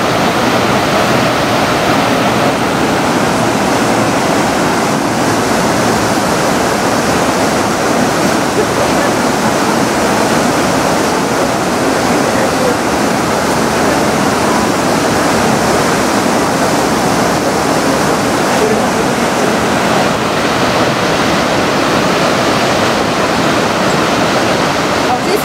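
Rushing river water beside the town hall standing on the water in Bamberg, a loud, continuous, unbroken roar that stays steady throughout with no pauses.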